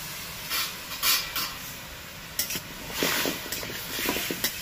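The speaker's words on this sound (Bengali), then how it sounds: "এবার গুড়টাকে পুরো গলিয়ে নেব।" Jaggery melting with a little water in a pan gives a soft, steady hiss and sizzle, faint and close, with occasional scraping and stirring sounds rising and falling.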